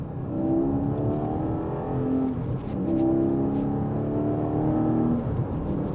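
A Porsche 718 Cayman GTS with a 4.0 engine revs hard through two rising surges in pitch separated by a brief dip, heard loud and up close with a rich tonal howl and no talking.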